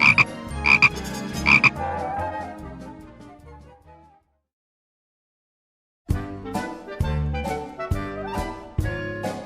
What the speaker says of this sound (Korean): 개굴 개굴 개구리 신나게 노래할 때도 재미있게 놀 때도 개굴 개굴 울지요.